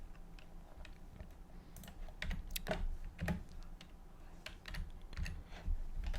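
A computer keyboard clatters with quick, uneven typing and key clicks, close but quiet, with no talking.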